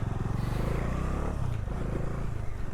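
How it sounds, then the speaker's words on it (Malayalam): A Bajaj Dominar motorcycle engine drones steadily up close, its throbbing exhaust note shifting slightly midway as the rider downshifts with rev matching. "ഇപ്പം ഗിയർ ഡൗൺ ചെയ്യുമ്പോൾ റിവ് മാച്ച് ചെയ്ത് ഡൗൺ ചെയ്യണം"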